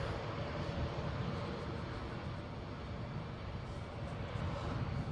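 Ryanair airliner departing Edinburgh airport, a steady broadband jet engine roar holding at an even loudness throughout, close and continuous with no voices.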